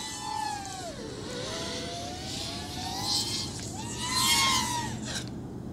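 An FPV racing drone with Racerstar SPROG-X 2205 brushless motors whines through the air. Its pitch rises and falls sharply as the throttle changes, with high-pitched buzzing surges heard up close and no speech.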